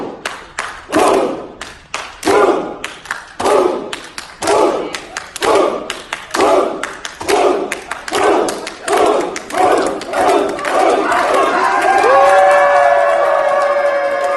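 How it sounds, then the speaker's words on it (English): A crowd in Madison after the games performs the Viking clap led by BKG: single loud claps with a shouted 'huh' repeating at a steady, accelerating rhythm, ending in sustained cheering and whistling. "here is a video from just after the games, still in Madison, BKG doing the Viking clap"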